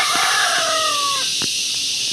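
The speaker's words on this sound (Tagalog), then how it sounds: "May mga manok." A rooster crows nearby with a long, drawn-out call, followed by a few short clucks over a constant background hiss.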